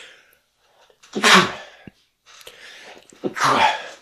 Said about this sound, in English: And I have to sneeze. It's making me sneeze.